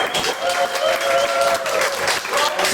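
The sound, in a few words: crowd applause at a club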